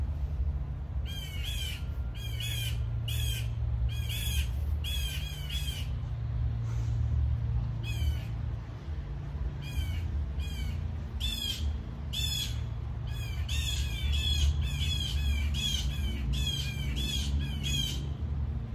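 Several birds squawk and caw harshly in repeated bursts at a chicken hawk robbing eggs in mango trees, loud and steady throughout over a low constant background rumble.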